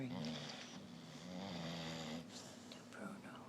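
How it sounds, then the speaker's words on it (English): A dog snores softly in slow, rumbling breaths indoors, faint and close, with a person talking quietly over it. "He's snoring."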